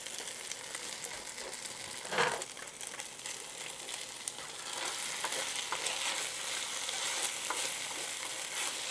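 Eggs scramble and fry in a pan for steak fried rice, a soft continuous sizzle with occasional scraping stirs from a utensil, close and fairly quiet, with no talking.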